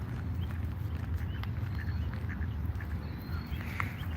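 Ducks quack outdoors in Washington, DC, over a steady rumble of background noise.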